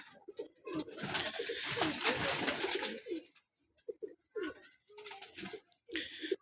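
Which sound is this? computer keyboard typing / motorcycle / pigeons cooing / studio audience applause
pigeons cooing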